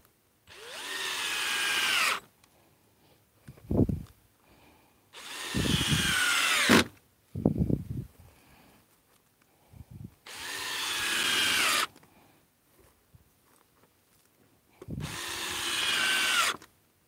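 A power drill drives screws into a DIY greenhouse frame in four sustained whirring bursts separated by pauses, with softer knocks and handling noises between them, close and clear.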